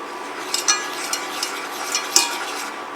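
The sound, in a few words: flour being stirred and cooked in pan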